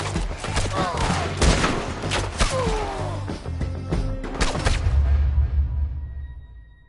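Heavy artillery fire in the video game Red Dead Redemption 2, a rapid series of loud booming blasts and crashes in quick succession, with a shouted voice briefly over the barrage before it fades out at the end.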